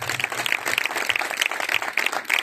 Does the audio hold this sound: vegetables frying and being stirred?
no